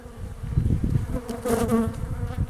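Dense, close buzzing of many Buckfast honeybees at a hive, a continuous droning hum that swells slightly midway with no voices.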